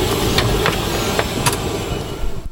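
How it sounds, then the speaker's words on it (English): Turboprop engine of a small regional plane idling near the open cabin door, a loud, steady rumbling drone with a few sharp clicks and clatters over it. "the turboprop engine on this plane is very close to the cabin door, making it extremely noisy"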